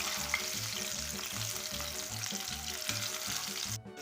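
Chicken legs fry in a pan over a medium flame, a steady close sizzle with bubbling crackle running throughout, no voices, briefly dipping near the end.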